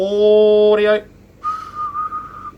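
A person whistles a sustained note that wavers, then drops briefly, followed by a second thinner whistled tone after a short pause.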